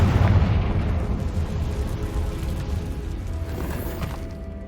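A Confringo fire spell blasts in Hogwarts Legacy: a loud, sustained explosive rumble that starts heavy and booming, then rolls on as a dense, crackling roar for several seconds.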